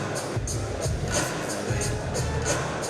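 Hometown crowd at a cage boxing match, a steady roar of noise with swells of cheering throughout, heard from within the arena.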